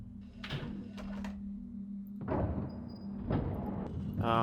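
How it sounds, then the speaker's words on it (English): A heavy gate in the puzzle game Riven grinds open in several low mechanical pushes over a steady hum, faint and measured, each movement rising and fading before the next. "I think that opened the door."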